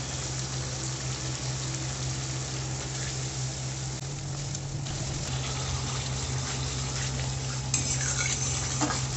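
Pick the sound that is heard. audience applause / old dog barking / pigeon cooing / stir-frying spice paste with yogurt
stir-frying spice paste with yogurt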